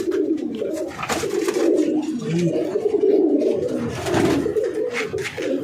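Madras tournament pigeons cooing close by, with repeated low throaty rolling coos that overlap in an uneven rhythm, loud and alone.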